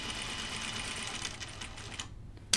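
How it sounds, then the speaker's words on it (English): A home sewing machine stitching a seam on a caftan garment, running as a close, steady mechanical whir that stops abruptly near the end, followed by a brief knock. "I'm gonna sew it from this side."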